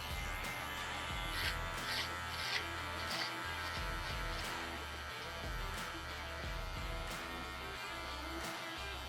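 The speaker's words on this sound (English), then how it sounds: "first thing you do is turn on your trimmer" A steady electric hair trimmer buzzes close up throughout a men's haircut around the sideburns and ears, with faint shifts in pitch as the blade moves through hair and no talking.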